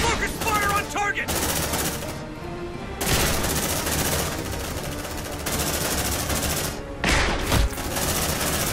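Sustained gunfire from a squad's weapons in the sci-fi video game Aliens: Dark Descent, a dense, loud, continuous automatic-fire barrage with a couple of brief dips and renewed bursts.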